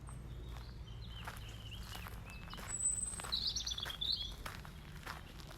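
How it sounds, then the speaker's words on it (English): Small birds chirp and sing intermittently over steady outdoor ambience in a graveyard in spring, with footsteps patter and a few brighter calls in the second half, fairly faint and moderately distant. "Do you hear the birds?"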